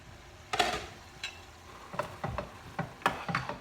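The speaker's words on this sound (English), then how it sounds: "I'm going to stir the cabbage" Cabbage is stirred in a cooking pot in a series of scraping, clattering spoon strokes, irregular and close, over a faint background sizzle. Nobody speaks.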